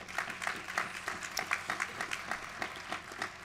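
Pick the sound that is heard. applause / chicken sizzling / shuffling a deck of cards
applause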